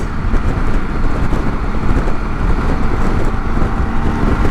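A BMW K1600 GTL motorcycle rolls along as the rider eases off the throttle, its engine droning steadily under heavy wind rush across the microphone, no speech.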